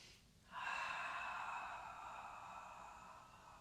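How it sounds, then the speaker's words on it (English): A sharp, forceful sniff of air through the nose during breathwork, starting abruptly and trailing into a long airy hiss, close and alone. "you sniff it hard, and that will suck air in through the nose very quickly"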